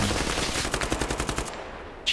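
Rapid automatic gunfire from a weapon in the military shooter game Squad, a fast, loud burst of evenly spaced shots lasting about a second and a half, then a short pause and the start of another shot.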